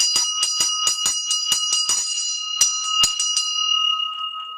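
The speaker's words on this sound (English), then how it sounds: "in the temples we use both the ghanta, that is the bell," A metal temple bell (ghanta) is struck repeatedly in quick, uneven strokes, each hit ringing bright and loud with a sustained metallic hum that lingers and fades as the strikes thin out.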